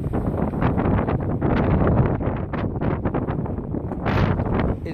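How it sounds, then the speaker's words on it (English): Strong coastal wind at Bracelet Bay in Swansea, Wales, batters the camera microphone with a steady loud roar and rumble that rises in gusts, with no voices. "It's windy, so windy the camera's shaking."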